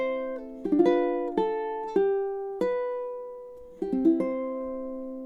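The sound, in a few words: ukulele chord melody arrangement of He Ilave played in time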